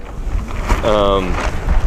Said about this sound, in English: as you can tell today, it's fairly windy